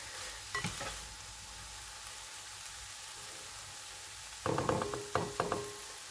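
Bacon frying in a pan sizzles steadily in the background, broken by short bursts of sharp clicking and knocking from a utensil, close and fairly quiet overall, with no talk.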